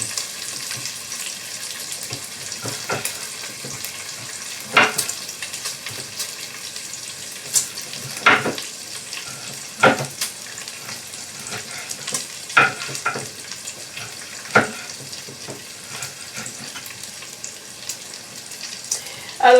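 Food cooking on low heat in a pan with a constant soft sizzle, broken by occasional clinks and scrapes of a utensil, close and moderate in level with no talking.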